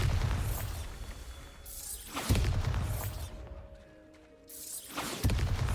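Booming spell blasts from the Bombarda spell in the video game Hogwarts Legacy, loud bursts near 2.3 s and 5.2 s over a rumbling game background, with a brief quieter lull between them.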